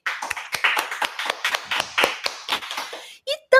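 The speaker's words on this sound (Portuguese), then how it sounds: "palmas para você" Clapping after a public-speaking lesson: a short, close run of about a dozen sharp, evenly spaced claps that stops abruptly, followed by a brief burst of voice.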